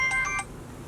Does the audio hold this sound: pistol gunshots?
no